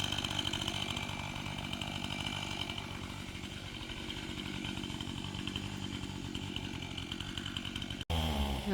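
A chainsaw runs continuously at close range, cutting down a large dead pine killed by pine beetles, with a loud steady buzzing roar and rapid chain rattle that cuts out abruptly near the end.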